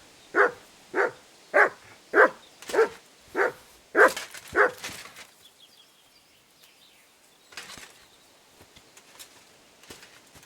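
Dog barking in the video game Kingdom Come: Deliverance 2, eight sharp evenly spaced barks in quick succession, fairly close and clear, then fading into quiet ambient background with faint rustles.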